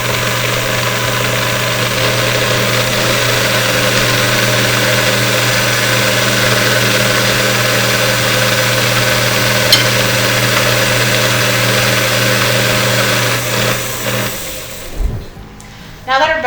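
A stand mixer with a paddle attachment beats butter, giving a loud steady motor hum with a constant mechanical whir that stops near the end, leaving a few knocks and handling noises.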